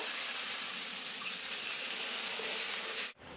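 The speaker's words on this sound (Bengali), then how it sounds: "এবার ঝোলের জন্য কিন্তু জল দিয়ে দেবো।" Water poured onto hot fried masala for fish kofta curry gravy, giving a steady, broad hiss and sizzle that holds evenly close-up and then cuts off abruptly near the end, with no talk.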